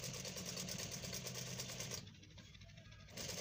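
A tailor runs a sewing machine in quick bursts, a steady mechanical whir with a rapid stitching pulse that pauses briefly for about a second before resuming, close and fairly quiet, with no talk.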